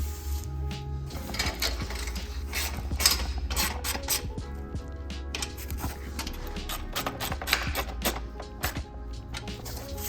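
Nylock nuts being tightened onto frame bolts while assembling a GFC chase frame, giving a steady run of close mechanical ratcheting and metallic clicks over a low hum, continuous throughout with no talk.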